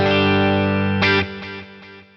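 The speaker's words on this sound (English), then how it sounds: "the delay becomes stereo if you use the pan mode. And as you can hear, it's bouncing from left to right" A distorted electric guitar chord rings through a Boss Katana amp with stereo delay in pan mode, followed by several fading repeats that decay over about two seconds.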